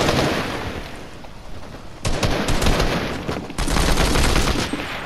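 Rapid assault rifle fire from a video game comes in two loud automatic bursts, each a dense crackling stream of shots separated by a short lull, with a softer muffled stretch before them.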